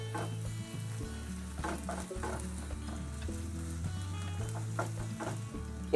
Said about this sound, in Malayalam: ഇതിലേക്ക് ഞാൻ 2 കരിയാപ്പില ആഡ് ചെയ്ത് കൊടുത്തു.